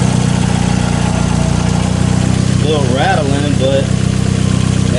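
A turbocharged Mazda Miata engine idles close by with a steady, even, rattly drone, and a person speaks briefly over it near the middle.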